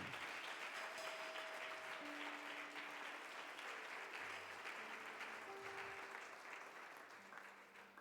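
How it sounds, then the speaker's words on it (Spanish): A church congregation at an evening service keeps up steady, dense applause for several seconds, filling the room evenly and tapering slightly toward the end. "Denle un aplauso si usted trae agradecimiento."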